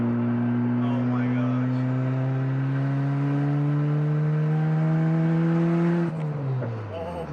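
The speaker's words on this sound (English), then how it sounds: "Listen to the turbo noises" A Toyota Celica GT-S with a turbo drones loudly from inside the car, its steady engine tone slowly climbing in pitch before dropping off sharply near the end.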